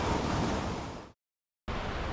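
Loud broadband rushing of a raging river beside an open-fell camp on Sweden's Kungsleden in the Arctic, a steady roar that cuts out abruptly for about half a second before resuming.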